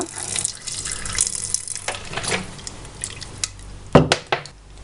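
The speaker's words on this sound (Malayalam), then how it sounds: "ഇതിലോട്ട് കുറച്ച് വെള്ളം ഒഴിക്കുക." Water poured from a tap or vessel onto chopped beetroot in a pressure cooker for beetroot pachadi, a close splashing trickle with small clinks of metal, rising into a couple of sharper splashes near the end.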